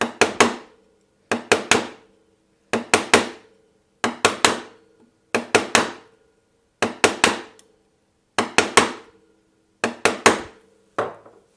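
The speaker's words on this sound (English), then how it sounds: "Now I'm able to pare right to the back of the mortise." A chisel chops and pares a hinge mortise in wood with a mallet, giving sharp, close double and triple knocks in an evenly spaced rhythm with quiet gaps between each group.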